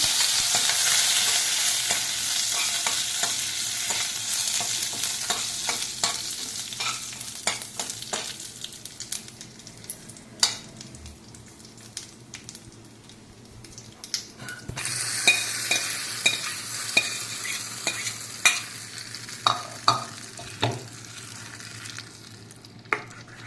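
Curry leaves and green chillies sizzle in hot oil alongside fried urad dal for a peanut chutney tempering, a steady close frying hiss broken by repeated scraping and knocking of a spoon stirring the pan.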